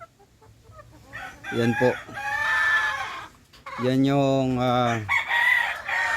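Gamecocks cluck and a rooster-like call rises over a speaking voice, with bird sounds close and loud in short bursts.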